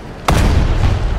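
In a tank video game, a single heavy cannon shot booms loudly and close, followed by a rumbling tail and faint crackle.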